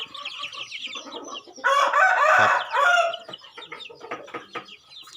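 Gamecock chickens cluck and chatter close by, then a rooster crows loudly for a couple of seconds before the clucking resumes; someone speaks briefly underneath.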